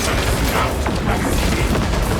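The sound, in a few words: Revenant High Turret destroyed, explosion in a video game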